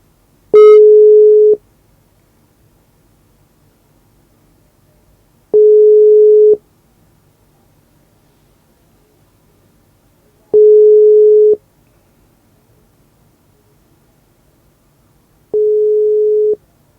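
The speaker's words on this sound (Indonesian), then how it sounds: "nada dering tetap berbunyi" Telephone ringback tone on an unanswered call, four steady beeps each about a second long, repeating every five seconds with silence between, clear and alone.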